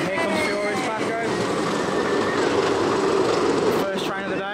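The Furius Baco launched roller coaster train at PortAventura theme park rumbles past nearby, a loud, sustained roar with rattling from the track, while people talk in the background.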